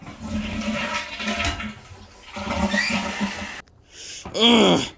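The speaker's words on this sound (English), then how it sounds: "Get flushed away, Wreck-It Ralph!" A toilet flushes with a loud rushing, gurgling swirl of water that runs for several seconds, followed by a brief gasping vocal sound at the end.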